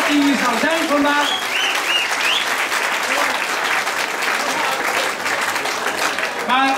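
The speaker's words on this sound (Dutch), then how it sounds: "En die geven we even een groot applaus." An audience at a concert finale in Bussum applauds loudly and continuously, with a voice and cheering audible over the clapping.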